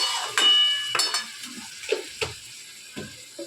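Spices sizzle in a pan while a utensil scrapes and clinks against the metal in irregular stirring strokes, close and fairly loud.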